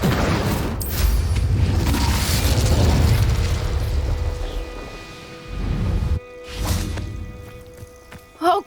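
Casting the Incendio fire spell in Hogwarts Legacy sets off a roaring burst of flame, a sustained whooshing rumble that swells and fades, followed by shorter flare-ups and bursts.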